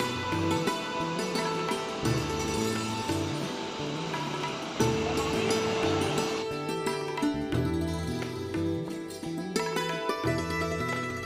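Water sprays and rushes heavily at Maneri Dam on the Bhagirathi river, a dense continuous roar of falling spray, with music playing loudly over it the whole time.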